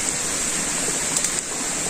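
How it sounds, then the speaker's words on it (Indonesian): Water rushing along a stream beside a riverbank, a steady, broadband hiss and gurgle, constant and fairly loud, without talk. "Diiringi suara gemuruh air"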